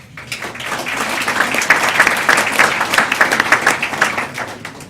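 A big round of applause rises from an evening ceremony audience as honorees are called by name: dense, sustained clapping from a crowd that swells and holds steady throughout, with no voices over it.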